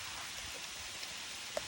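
Light rain falls outdoors in a natural setting, a soft and steady wash of patter that stays faint and even throughout, with no voices.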